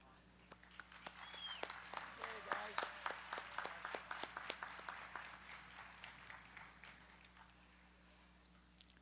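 An audience at California State University, Northridge's 2012 College of Science and Mathematics commencement breaks into applause: irregular clapping swells, peaks and thins out over several seconds in a large reverberant outdoor venue, with faint background hum.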